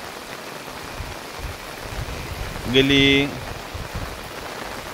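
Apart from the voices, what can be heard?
heavy rain falling in a village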